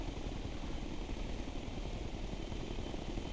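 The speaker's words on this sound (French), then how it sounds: "Par contre on voit très bien le vilain hélicoptère qui tourne au-dessus." A helicopter circling overhead in the video game Ghost Recon Future Soldier gives a steady, dense whirring rotor and engine drone that fills the scene without pause or speech.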